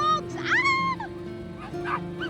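Hounds being let loose at a mountain homestead in the Pyrenees give excited yelps and whining barks, close and loud, with a person's voice calling out among them.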